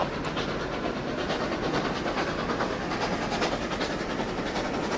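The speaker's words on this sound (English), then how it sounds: "The coach is rumbling dreadfully" A train coach rumbles steadily along the tracks, a loud, dense roar with hiss and faint rhythmic clatter running unbroken throughout, with no voices.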